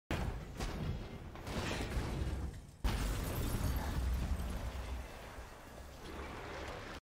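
Explosions from a Devil May Cry 5 action game trailer, loud and dense booming bursts filling the whole stretch, with a sharp break midway before another sustained rumbling blast continues to the end.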